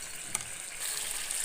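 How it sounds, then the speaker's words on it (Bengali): Ground spice powders, cumin and garam masala, frying in hot mustard oil with a steady soft sizzle, a brief clink of a spoon stirring near the start, no voices. "এবার আমি মশলাটা কষানোর জন্য নেড়ে চেড়ে একটু দিয়ে দিব"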